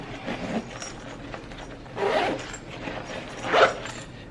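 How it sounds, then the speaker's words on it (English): A zipper closing on a Tom Bihn Synapse 25 backpack's main compartment, three short rasping pulls spaced about a second and a half apart, the last one strongest, close up with no talking. "And you zip that up."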